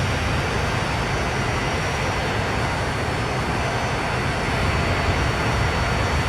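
A VTOL aircraft engine in the video game Transport Fever 2 roars as a steady, dense, even jet-like rush that holds unchanged throughout.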